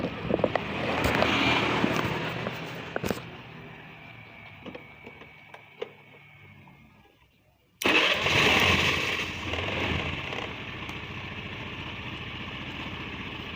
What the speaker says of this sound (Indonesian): Ini motor di starter sudah hidup.